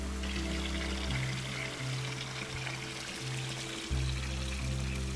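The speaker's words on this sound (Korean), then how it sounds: "물소리 시원하고" Water pours in a steady stream in the puzzle game The Gardens Between, a continuous rushing wash over calm game music with sustained low tones, no voices.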